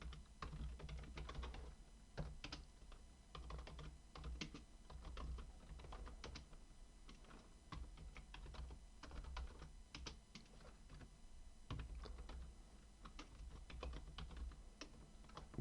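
Rapid, continuous typing of Python code on a computer keyboard, close and fairly quiet, with dense clattering keystrokes and occasional heavier taps over a low room hum, no talking.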